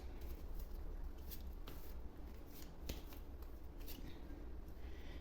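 Tarot cards are drawn from a deck, producing a run of faint, close papery slides and soft flicks and snaps against a quiet room, with no voices.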